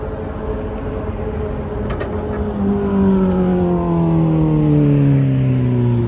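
Heavy traffic near the Las Vegas Strip: a continuous loud wash of car engines and tyre noise, with a passing vehicle's engine tone sliding downward as it goes by close.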